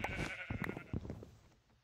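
Sheep in the Minecraft video game bleat several times in quick succession, close and fairly loud, while being sheared for wool, with game sounds underneath.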